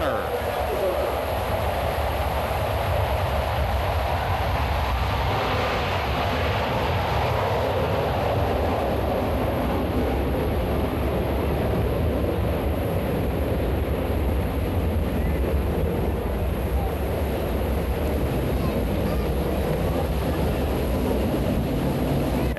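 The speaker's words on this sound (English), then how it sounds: "the smoke is not visible while the aircraft are in afterburner" Blue Angels jets pass in afterburner at a 1987 airshow, a broad sustained roar swelling and holding over a long stretch, distant but heavy, with a crowd or announcer audible underneath.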